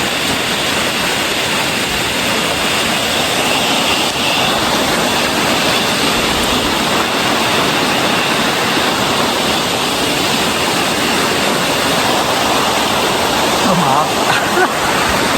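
Garadi Ella waterfall at Kalugala, Sri Lanka, roars as a loud, unbroken rush of falling water from close by, filling the whole scene with constant broadband noise.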